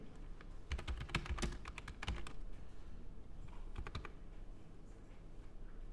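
Fast typing on a computer keyboard while editing a theme, with bursts of closely spaced clicks and short pauses, moderately close and alone with no talk.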